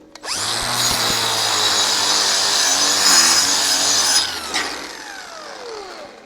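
A cheap PUWU welder lays a bead, giving a loud, close, steady buzzing hiss with a low electrical hum for about four seconds before it cuts off and fades.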